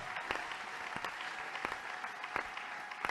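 A church congregation applauding the Lord, with steady, dense clapping from many hands, close and continuous, with sharper individual claps popping out above the wash of sound.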